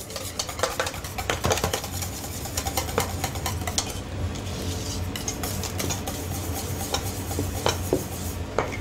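Steady scraping and clinking of a whisk beating ginger cheesecake batter with sugar in a bowl, brisk and continuous with occasional sharper metallic taps, close up.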